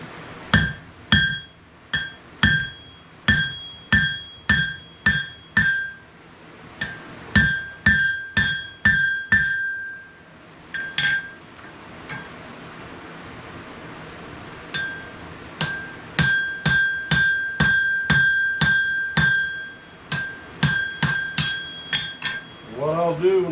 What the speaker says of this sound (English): we're going to get back to hammering